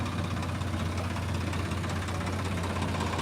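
A tractor engine idles steadily at a tractor market in Barnala, a low throbbing rumble with a constant knocking rhythm, close by and unbroken, with no talking.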